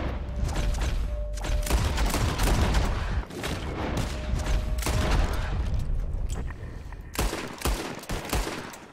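In Red Dead Redemption 2, gunshots are fired at birds flying up. Dense, overlapping rifle and pistol reports keep coming as a loud, near-continuous volley throughout.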